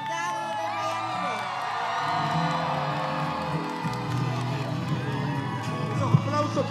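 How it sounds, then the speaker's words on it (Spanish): An audience at a ceremony in Miami-Dade County, where a key to the county is being presented, cheers, whoops and applauds loudly and continuously as a large crowd. "Los aplausos que se oigan"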